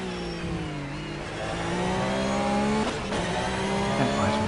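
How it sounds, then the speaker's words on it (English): Racing car in a video game endurance race, engine revving and shifting steadily with brief tyre squeals as the brakes lock up, loud and continuous with no talking. "Yeah, Alvin, that's locking up brakes all over the place"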